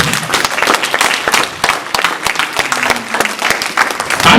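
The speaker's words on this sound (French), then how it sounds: "On acclame la parole" A church congregation breaks into loud, sustained applause after a sermon on the balanced family, dense clapping close by with a few louder claps standing out.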